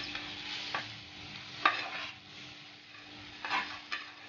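Flattened rice (poha) stirred into melted jaggery syrup for a sweet Janmashtami prasadam, a few soft scraping stirs and light sticky sizzles in a quiet pan, close and faint with no talking.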